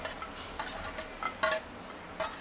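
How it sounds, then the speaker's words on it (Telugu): Cashews frying in melted ghee in a pan, a soft, quiet sizzle broken by a few brief scraping stirs, heard up close with no one talking. "సో అయితే ఫస్ట్ అయితే డ్రై ఫ్రూట్స్ వేయించుకుంటున్నాం అనమాట"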